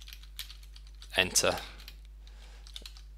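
Several keystrokes on a computer keyboard tapped in a short burst around the middle, close and moderately loud, with a quiet hum underneath and a brief spoken word.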